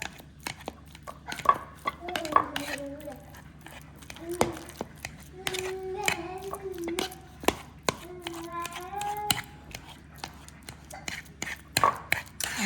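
Egg salad ingredients, including healthy mayo and black pepper, get mashed together in a bowl, making repeated soft squelching taps and scrapes close by while a person talks over much of it.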